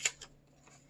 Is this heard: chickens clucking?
no